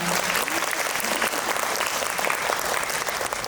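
Audience at a film festival Q&A with an actor gives steady, dense applause throughout, a full crowd clapping without pause.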